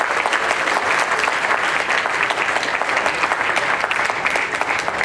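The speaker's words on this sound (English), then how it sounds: "Big applause for him." An audience at a Hindu temple event in Greater Fort Worth breaks into applause, a thick, continuous wash of many hands clapping at an even level for several seconds.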